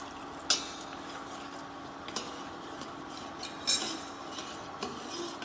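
Brown sauce ingredients being stirred and mixed in a pan, with soft scraping and a few sharp clinks of a utensil against metal at irregular intervals, quiet and close.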